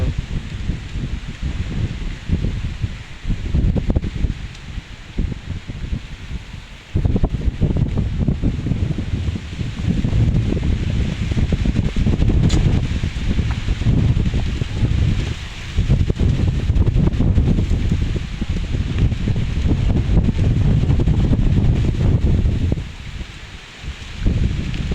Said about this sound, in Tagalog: lakas talaga ng hangin dito